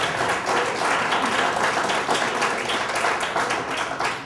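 Steady crowd applause, dense and continuous, fairly loud throughout, with a faint murmur of voices underneath.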